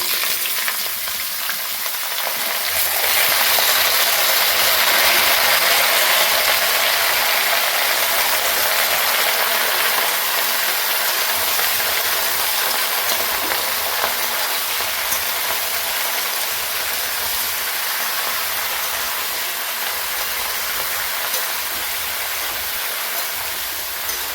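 Bottle gourd and potato pieces frying in hot oil in a pan, a loud, steady sizzle that swells after a few seconds and holds with occasional scraping and stirring clatter, no talking.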